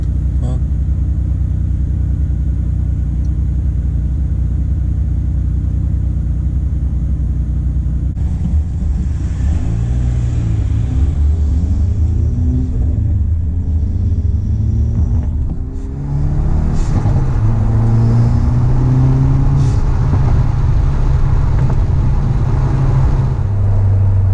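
A Hyundai Veloster N engine with an ECU tune hums steadily from inside the cabin, then rises in pitch as it accelerates, with road rumble underneath and no voices.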